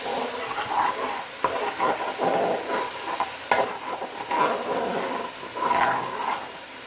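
A metal spoon scrapes and grates against a pot of Spanish rice cooking on a stove at medium heat: repeated rough, close strokes over a constant background hiss.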